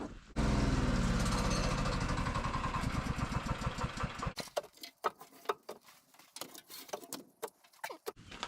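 Gas engine of a wood splitter runs close by with a steady rough drone for about four seconds, then cuts to irregular knocks and clatter over a quieter background.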